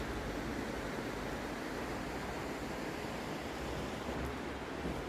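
Steady rushing water fills the scene, a constant broadband roar of a fast-flowing mountain river nearby in Yaremche, with no voices or breaks.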